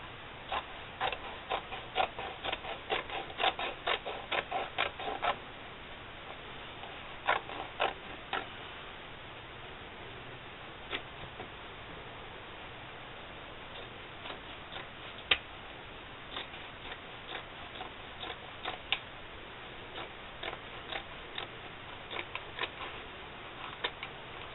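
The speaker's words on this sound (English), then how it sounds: "we're going to cut up both sides of the seams on both sides of our pant leg." Scissors snipping through denim along the seams of a pant leg, a steady run of quiet crisp clicks and crunches close by, with brief pauses between bursts of cutting.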